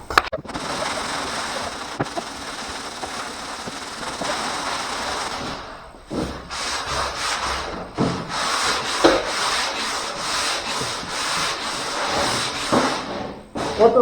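A primer coat is sanded by hand with 180-grit paper outdoors in wind, giving loud, continuous scratchy rubbing strokes with brief pauses, wind noise and a short voice in the background.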